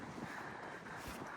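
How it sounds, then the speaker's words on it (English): Wind buffets the microphone outdoors in a constant rough rush, with low gusty thumps and no voices. "it is a bit windy"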